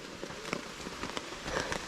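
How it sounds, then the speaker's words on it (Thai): Rain falling in a tropical rainforest during an evening storm, a steady broadband hiss of drops with scattered louder patters on nearby surfaces, continuous and moderately quiet throughout. "เพราะว่าฝนมาแล้วเนาะ"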